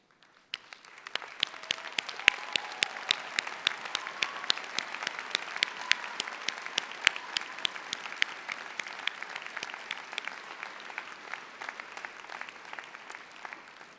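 Audience at a college commencement ceremony applauds the standing graduates, a steady wash of many hands clapping from a large crowd that swells after a second and holds evenly throughout, with no voices.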